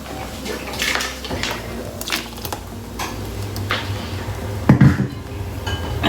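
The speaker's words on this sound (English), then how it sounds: "So I'm going to pour it in a dish" Blended garlic soup is poured into a dish in a soft, uneven stream, with clinks of the dish and utensils and a louder knock near the end, heard close up with no talk.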